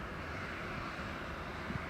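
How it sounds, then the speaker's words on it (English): An aircraft engine run-up at Leeds Bradford Airport: a faint, steady, distant roar that holds level throughout, with no voices. "It sounds like something's doing an engine run up"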